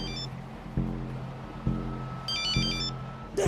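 A telephone rings in repeated electronic trills, faint and somewhat distant, over a low background rumble with soft periodic thumps.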